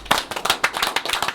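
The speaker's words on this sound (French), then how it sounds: "On applaudit les Zobel." A short burst of hand clapping from a small group, quick and uneven, close and fairly loud.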